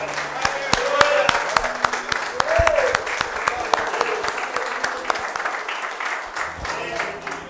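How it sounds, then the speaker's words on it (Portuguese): Audience applause at a church men's gathering, many people clapping loudly and steadily with sharp individual claps standing out and some voices underneath. "dá uma grande salva de palmas para Jesus"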